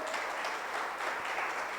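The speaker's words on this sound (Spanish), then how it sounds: "Regálenle un aplauso esta tarde al Señor" A church congregation claps in a soft, steady wash of applause, faint and distant, with no clear individual claps standing out.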